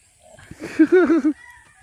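A rooster crows once, loud and close, a short rising-and-falling call lasting under a second with faint background.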